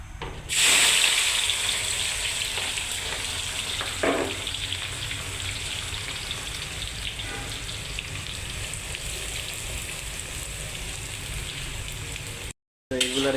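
Chopped onions dropped into a hot pan for a prawn curry, bursting into a loud sizzle that settles into a steady crackling fry, with a few clatters and a voice talking over it.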